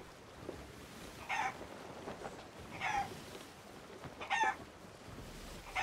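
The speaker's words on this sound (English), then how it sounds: "chickens like to bacawk when they hear another chicken bacawk" Chickens cluck and crow in short repeated bursts in Sea of Thieves, a few calls spaced across the clip over a steady low background hum.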